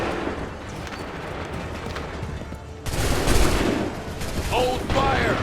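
Gunfire in Assassin's Creed III sounds as a massed musket volley that bursts in loud and dense over a rumbling battlefield, with voices shouting during the noise.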